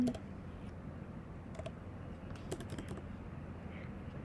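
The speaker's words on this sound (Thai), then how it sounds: "แล้วเราก็พิมพ์คำว่าล็อกอินนะคะ" Faint typing on a computer keyboard while entering a login: soft, scattered key taps over a steady low background hum, with nobody speaking.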